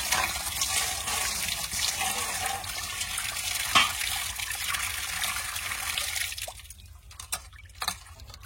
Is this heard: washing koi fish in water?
yes